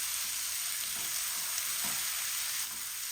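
Okra coated in egg fries in hot oil with a steady, even sizzle. Occasional soft stirring scrapes rise through it, and no one talks.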